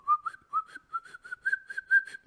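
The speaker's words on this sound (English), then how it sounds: "when they whistle like this, that means that they are aware of an enemy in the area." Enemies whistling in the video game The Last of Us 2: a series of about ten short, clear whistled notes in a quick, regular rhythm, each sliding slightly upward in pitch, loud and close with no other sound.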